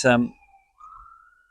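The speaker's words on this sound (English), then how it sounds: "Apologies for the siren going by on the bypass there." A voice speaks briefly, then a thin siren tone rises faintly in the distance as it passes along a bypass road.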